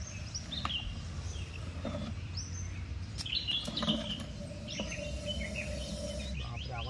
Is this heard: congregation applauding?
no